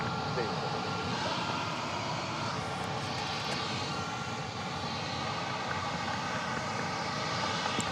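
An aircraft climbs out from Dallas Love Field at night, a loud steady broadband engine roar that fills the whole stretch, with radio chatter and talk faintly underneath.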